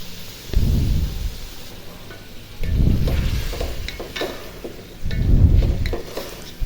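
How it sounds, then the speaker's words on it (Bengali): Chicken pieces being stir-fried bhuna-style with spices in a pan, with three loud, rumbling bursts of scraping and stirring over a steady sizzle, close and with no voices. "তো এই যে দেখুন কষিয়ে নিতেছি ভালো করে"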